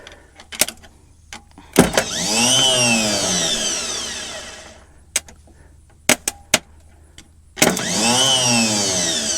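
An old forklift engine cranks and sputters after gas is pumped, two long whirring cranking runs separated by clicks and knocks, fairly loud and close.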